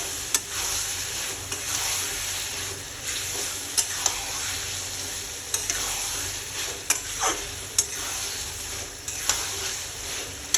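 Chicken sautéing with spices in a pan, a constant bright sizzle under intermittent scraping stir strokes and occasional clinks, close and fairly loud, with no voices.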